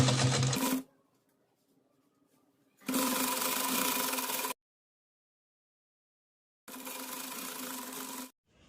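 Sewing machine stitching the shoulder seams of a girl's umbrella frock, heard as three close, steady bursts of fast mechanical whirring with clean silent gaps between them.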